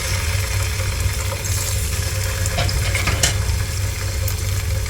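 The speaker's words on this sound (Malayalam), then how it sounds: "പാൻ ചൂടായിട്ടുണ്ടെങ്കിൽ നമുക്ക് ഫിഷ് ഫ്രൈ ചെയ്യാം ആദ്യം ഞാൻ മത്തിയാണ് ചെയ്യുന്നത്" Sardines fry in a hot pan with a loud, continuous sizzle and crackle, with occasional sharper pops rising over the steady hiss.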